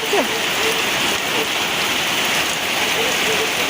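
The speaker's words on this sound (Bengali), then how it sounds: "মুসুলধারা বৃষ্টি শুরু হলো" Heavy rain pours steadily in a dense, constant hiss, close and loud, with faint voices underneath.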